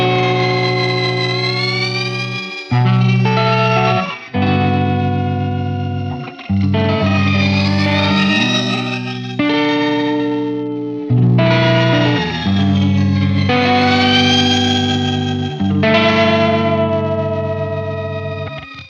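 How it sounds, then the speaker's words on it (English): Notes run through an Old Blood Noise Endeavors Excess V2 pedal with its expression ramper sweeping, so each chord swells and warbles in pitch before decaying, a series of distinct strums with pauses between them, loud and wordless. "Now let's go ahead and engage the expression ramper."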